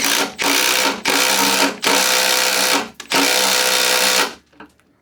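A Milwaukee M12 compact impact driver bores into wood in four loud, sustained bursts separated by short pauses, whining steadily before falling quiet at the end.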